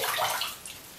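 Hot tap water sloshing and splashing in a filled bathroom sink while preparing for a shave, a brief close wash of water noise that fades out within a second.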